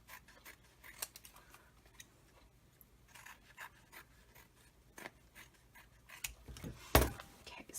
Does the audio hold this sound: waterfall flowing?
no